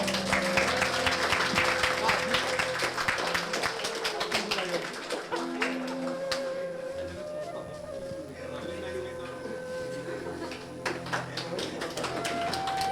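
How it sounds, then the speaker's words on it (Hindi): Audience applause at a Teacher's Day celebration, dense and sustained clapping filling the whole stretch with scattered louder claps, while voices and background chatter mix underneath. "तालियां।"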